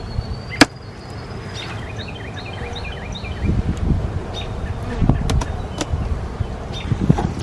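Bees buzz around an aggressive hive outdoors, a continuous mid-level drone with scattered sharp clicks, rustling and faint bird chirps nearby.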